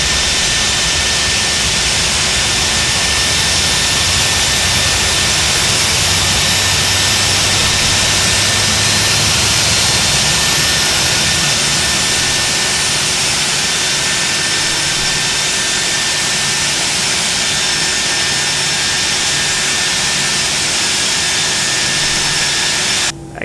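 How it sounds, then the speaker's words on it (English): ToLiss A319 airliner's engine number 1 spooling up during start in X-Plane 11, a steady loud jet whine and roar with a constant high tone, continuous throughout with no talking. "so let's go ahead and start engine number 1"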